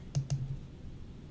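Two quick, faint clicks close together from a computer mouse or keyboard, followed by quiet room tone.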